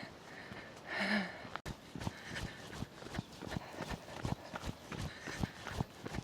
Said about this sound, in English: the sheep have taken off back into the trees